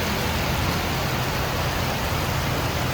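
Heavy rain pours down in Bali, a dense, steady hiss that fills everything evenly and continuously with no talk.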